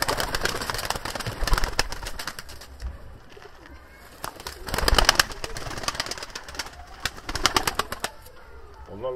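Tumbler pigeons in a loft, with soft low cooing and bursts of wing flapping that swell and fade in three busier spells, fairly close and moderately loud, with no talking.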